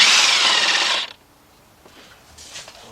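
A DeWalt power tool spinning on the bolts of a VW Beetle engine, one loud whirring burst for about a second that cuts off abruptly, followed by faint clinks of handling.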